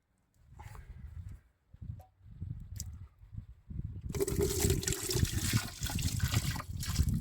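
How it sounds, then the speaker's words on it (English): Water is poured into the drainage holes of a Porsche Boxster 986, first a few intermittent splashes and trickles, then a steady, louder gushing flow. "Okay, let's put some water down there."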